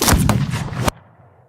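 Single loud pistol gunshot in a staged duel from the Hamilton musical, a sharp close blast that cuts off abruptly and leaves a faint tail.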